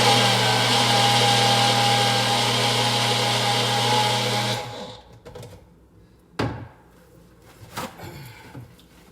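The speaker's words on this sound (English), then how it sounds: "this is my first time making this with this blender." Blender running loud and steady for about four and a half seconds as it blends a smoothie of frozen fruit, then cutting off, followed by a few short knocks and clatters.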